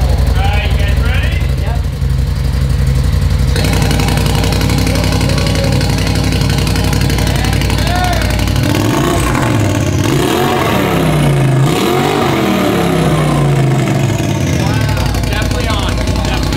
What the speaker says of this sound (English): we haven't heard it yet with the cutout exhaust, so this is gonna be our first reaction to hearing how it sounds